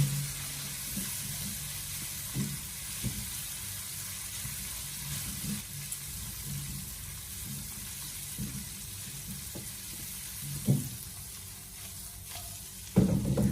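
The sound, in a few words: stir-frying bean curd sticks and meat with soy sauce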